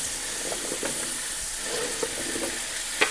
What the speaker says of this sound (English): we're just sautéing them a little bit